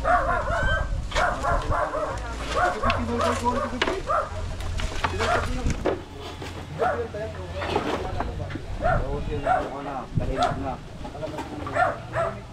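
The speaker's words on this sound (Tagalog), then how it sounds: "Si Ari ng aso." Dog barking repeatedly in a lively, irregular series of barks and yips, fairly close, mixed with people talking over it throughout.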